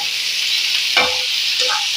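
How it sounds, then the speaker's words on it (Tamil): Tomatoes softening with salt in a hot pan, a continuous bright hiss of sautéing with a single stirring scrape midway and a lighter one near the end. "உப்பு சேர்த்து இது நல்லா வதக்கலாம்."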